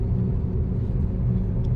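Inside a moving Toyota Fortuner on the road to Kashid beach, a steady, loud low engine rumble and road drone continues throughout with no talk.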